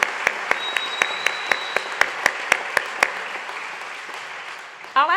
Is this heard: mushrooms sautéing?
no